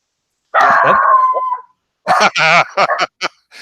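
A dog howls in a long, wavering cry that tapers off, followed by several shorter yelping howls in quick bursts, loud and close with no talking over it.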